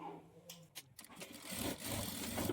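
A sewing machine stitches the back darts of a lined blouse, starting after a few soft handling clicks and then running in a steady, moderately quiet burst.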